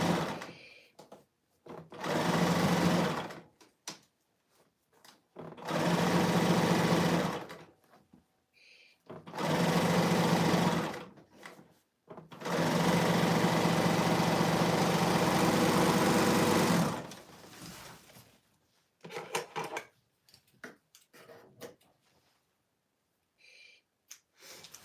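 A Bernina sewing machine stitching through a large amount of fabric runs in four bursts of rapid, steady mechanical whirring, the last one longest, separated by short pauses with small handling noises, close and alone.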